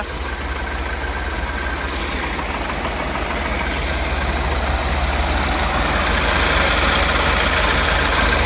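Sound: engine starting and idling on a farm machine during wheat sowing

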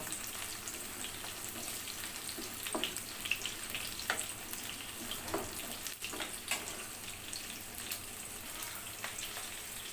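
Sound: onion and garlic frying and stirred in mustard oil

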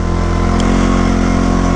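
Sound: quad (ATV) engine howling while riding

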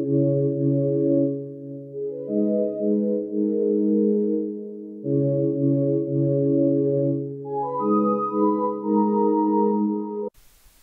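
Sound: synthesizer pad

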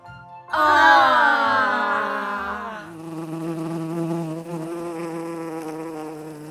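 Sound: bee buzzing

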